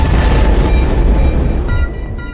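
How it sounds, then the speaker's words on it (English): A video game explosion sound effect, a loud booming blast with heavy low rumble that fills the moment and slowly tails off, with faint background music continuing over it. "our explosion"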